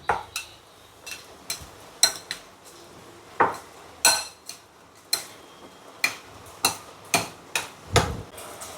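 Corn bhel being mixed with chutney in a bowl, with a string of crisp clinks and taps from a spoon against the dish, coming in an uneven rhythm of close, sharp strikes.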